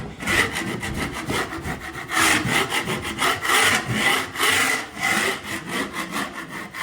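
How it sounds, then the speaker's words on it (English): A scraper knife rasps old flecks of paint from a wall in quick, repeated back-and-forth strokes, close and steady, with no talking. "Scrape off all of those little bits and bobs because you don't want that in your finished look."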